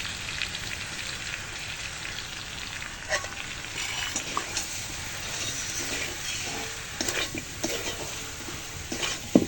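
Fried spices being stirred into a pan of sour-hot raw mango pickle: a steady, close scraping and crackling stir with small clicks of the spoon, continuous for several seconds with no voices.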